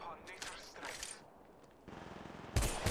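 Gunfire in the battle royale game Apex Legends Mobile: scattered quiet bursts of shots, then a louder sharp volley near the end, with background game noise and faint voice chat.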